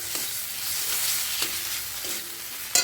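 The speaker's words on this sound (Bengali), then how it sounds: "আর এটাকে একবার এর সাথে ভালোভাবে মিশিয়ে নেব মশলার সাথে।" Chopped chili and tomato being stirred into spices in a pan for a soybean and potato curry, with a faint continuous sizzle and a few scraping strokes, ending in a sharper clatter.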